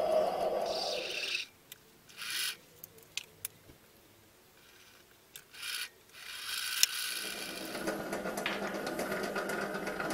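A metal lathe cuts a thread with the cut set on the compound slide, giving bursts of scraping, rasping cutting noise that stop and restart between short quiet gaps, fairly close and without talk.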